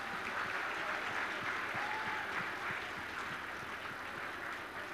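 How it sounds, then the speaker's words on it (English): A congregation at a scouts' anniversary service applauds the song leaders Joshua and Amir, a sustained patter of many hands clapping at a soft, even level that slowly eases off. "Give them a round of applause"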